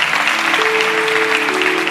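A congregation claps for Jesus during an Indonesian church sermon, a short steady burst of applause with a held tone sounding underneath.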